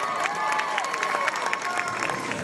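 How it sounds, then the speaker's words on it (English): A crowd applauding at a children's reading event, with claps and some cheering mixed with crowd noise, steady and fairly loud across the whole stretch. "Give me a huge round of applause."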